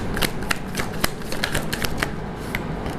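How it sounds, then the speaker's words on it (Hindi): Tarot cards are shuffled by hand in a quick run of crisp riffling flicks and taps, close up and alone, with no speech. "आप लोगों की तरफ से कार्ड लेती हूँ।"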